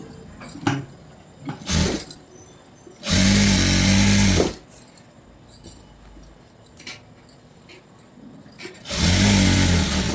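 A sewing machine stitches a seam on a computer-work blouse. The motor whirs in short bursts, then in two longer steady runs separated by quieter pauses.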